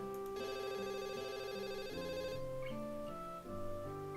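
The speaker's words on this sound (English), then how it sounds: "it becomes obvious that the sound's coming from her phone" A phone ringtone from the Katawa Shoujo visual novel plays a bright, melodic electronic tune of stepped tones, clear and steady with no talk over it.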